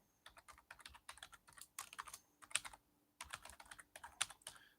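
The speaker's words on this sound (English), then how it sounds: "So I'm going to type in my email address." Quiet, close computer keyboard typing as an email address is entered, coming in rapid bursts of key clicks with short pauses between runs.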